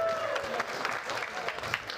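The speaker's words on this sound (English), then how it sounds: "let's give them some claps" A live comedy audience breaks into applause, a dense burst of clapping from a crowd with voices mixed in, fairly close and sustained for a couple of seconds.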